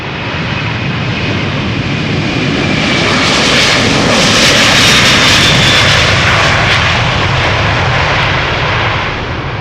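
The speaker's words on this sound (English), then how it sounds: "A330 going to Detroit, Delta Airlines flight 137, 8-year-old airplane" A Delta Air Lines Airbus A330 jet on departure from Amsterdam Schiphol, its engines roaring loud and close in a sustained broadband rumble that swells and then eases slightly as it passes.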